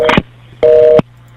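Telephone signal tone on a recorded phone call: a short beep, a pause, then a longer steady tone, loud and clean, with a faint low hum between the beeps and no speech.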